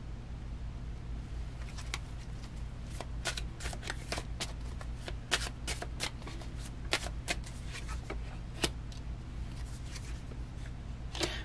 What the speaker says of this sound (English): I've been shuffling. You guys been seeing me shuffle.